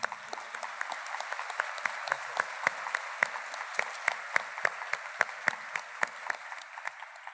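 Clapping from an audience at an evening conference as an engineer, president of México en Acción, is welcomed, fairly faint and continuous with distinct individual claps popping out steadily for several seconds.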